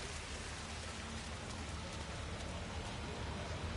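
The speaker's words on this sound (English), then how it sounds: "Rain, rain, nothing but rain." Steady rain falls in Hitman 3, a dense, even hiss of drops on surfaces that runs unbroken and fairly quiet throughout, with no voices.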